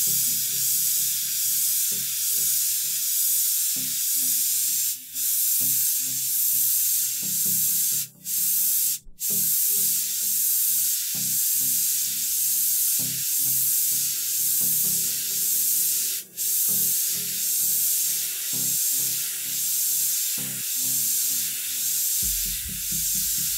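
An airbrush sprays paint onto a model canal boat with a continuous airy hiss, broken by a few brief pauses, close and steady with no talking.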